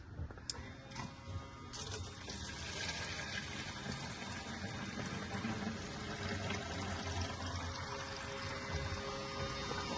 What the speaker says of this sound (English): right now, we're just gonna siphon, transfer all that old fuel